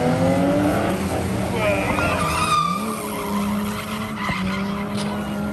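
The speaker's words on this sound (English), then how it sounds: "these cars are just screaming around the edge of the track" Race cars scream around the edge of a track in the rain with lightning about, one engine's loud, rising pitch sweeping past with tyre hiss and skidding under an excited voice.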